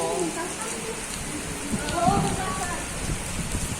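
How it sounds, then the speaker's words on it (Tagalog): Heavy rain pours down in Qatar, a steady dense hiss with faint voices talking underneath and a slight swell midway. "Yan, ang lakas ng ulan."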